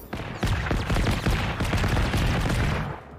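In the video game Generation Zero, an enemy VTOL fires rapid, dense bursts of gunfire that rattle on for about three seconds at moderate loudness. No one speaks over it.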